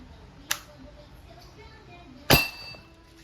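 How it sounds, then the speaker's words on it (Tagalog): A rubber ball fired from an Umarex T4E airgun strikes a Pale Pilsen glass bottle without breaking it. It makes two sharp glassy clinks, a lighter one and then a louder ringing hit, over quiet background. "hindi niya kayang basagin yung Pale Pilsin using the rubber ball"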